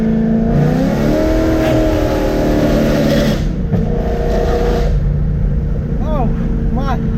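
A BMW E92 M3 with a Gintani straight-pipe exhaust roars loudly as it accelerates hard through the gears, its engine note climbing then dropping on a shift, with excited shouting over it throughout.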